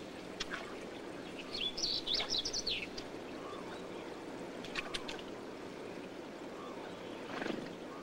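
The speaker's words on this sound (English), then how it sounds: "The waters of Engedi draw a rich variety of birds." Birds call around the waters of Engedi, where Tristram's grackles, African bulbuls and Spanish sparrows gather; faint scattered chirps and a brief whistled phrase rise over a steady outdoor wash of flowing water.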